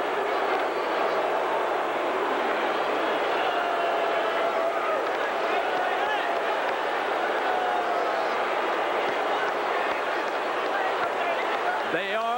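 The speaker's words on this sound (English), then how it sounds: "The Sooners being greeted by this huge crowd." A huge stadium crowd greeting the Oklahoma Sooners football team at a 1986 game against Miami, a dense, sustained roar filling the whole stretch at high volume, with a brief rising cheer near the end.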